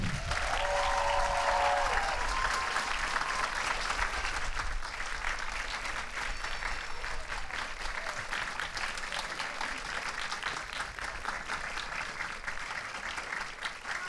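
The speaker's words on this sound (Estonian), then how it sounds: "Tehke veel endale üks korralik maad raputav aplaus." A hall full of people gives sustained applause at a school graduation ceremony in Tallinn, a loud continuous roar of clapping that holds steady for the whole stretch and tapers slightly toward the end.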